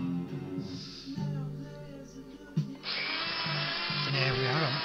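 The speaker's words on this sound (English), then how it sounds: "I'm polishing up the piston here. Bringing all the brass nice shine to it." A power tool whirs while polishing a brass piston from a Mamod SR1A steam engine during restoration, starting with a lower hum and then rising to a steady high-pitched buzz close by.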